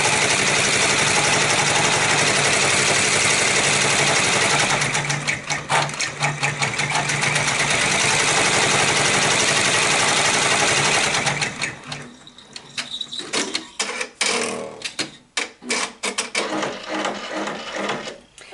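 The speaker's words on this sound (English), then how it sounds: "I use my chopstick to kind of hold the fabric in place as it stitches out." A Babylock 10-needle embroidery machine stitches out a design on held fabric, first as a fast, steady mechanical whir for about eleven seconds, then as broken bursts of clicks and short runs with pauses.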